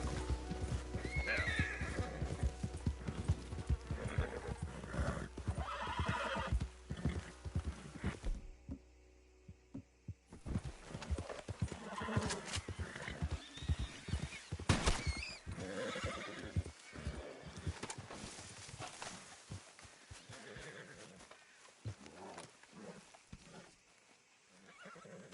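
A horse in the Red Dead Redemption II video game galloping with rapid rhythmic hoofbeats, pausing briefly, then galloping on again, with a whinny along the way and faint talk in the background.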